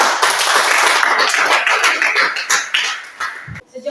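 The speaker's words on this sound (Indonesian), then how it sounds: "Mari kita tepuk tangan" Students in a classroom clap their hands together, a dense, close patter of many claps that gradually thins and breaks into a few scattered last claps.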